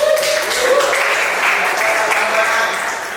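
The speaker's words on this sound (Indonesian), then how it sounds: "Berikan aplaus." Students in a classroom break into applause during a school lesson, a dense, steady patter of many hands clapping together that holds for about three seconds before easing slightly.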